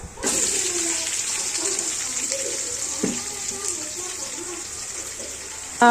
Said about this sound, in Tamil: இப்போ நம்ம அரிசி அந்த சட்டியில் போட்டு நல்லா கழுவி தண்ணி ஊற்றி கழுவி எடுத்துக்கிறோம்